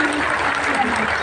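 Dense, loud applause from a crowd gathered for the sisters at a yoga camp, clapping steadily through the whole short moment with voices mixed in.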